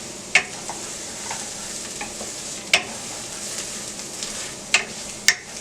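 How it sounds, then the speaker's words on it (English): Garlic toasting in a pan for pork chops with rice and beans, a soft steady sizzle with a few sharp spoon taps and clinks scattered throughout. "I toast the garlic, sue me."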